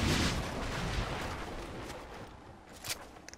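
Sniper rifle fire in Fortnite, a heavy booming shot at the start rolling into a long decaying echo, with a few smaller sharp cracks near the end.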